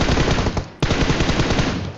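Rapid automatic gunfire from a player in a battle royale video game, a loud, dense burst of rounds with a brief break partway through before the firing resumes.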